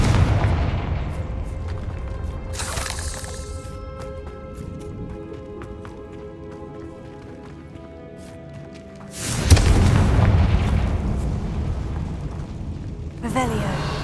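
Confringo fire spell explosions in the Hogwarts Legacy game, with three loud booming blasts at intervals: a short burst early, a heavier rumbling blast midway, and a brief final burst, over a steady game soundscape.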